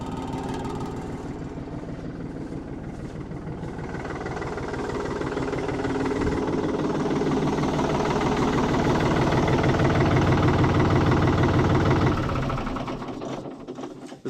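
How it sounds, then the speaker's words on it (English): A tractor engine on a Vermeer Rebel 5410 runs with a steady rhythmic chugging that swells louder, then cuts off abruptly near the end, leaving near silence. "I'm gonna go ahead and shut the tractor off."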